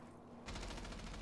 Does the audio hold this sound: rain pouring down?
no